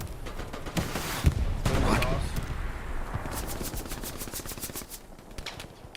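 Sustained machine gun fire in a Hell Let Loose battle on the Kharkov map, rattling in rapid bursts with several overlapping guns and sharp shot transients, loud and close, with a voice talking partway through.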